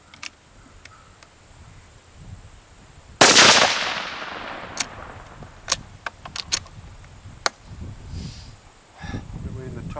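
A single sharp, loud crack from a Savage .17 WSM rifle fired outdoors, decaying quickly, followed by faint clicks and low handling noise, with people talking quietly around it.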